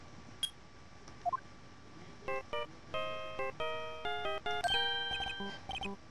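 Phone redial tones from the Phoenix Wright: Ace Attorney video game: a quick series of clean synthetic dial beeps in an irregular rhythm, preceded by a few short blips, clear and close with no talk.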